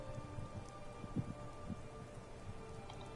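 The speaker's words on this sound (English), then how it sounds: "This rain will stop eventually. Always does." Rain falls in the video game Skyrim on PS5, a soft, even hiss of drops with faint low rumbles beneath, quiet and continuous throughout.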